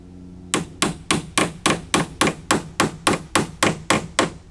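Rapid, steady hammer blows strike a nailed-down deck sheet on a trailer tool box conversion as it is being pried off, about fourteen sharp, loud impacts in even rhythm with no talking.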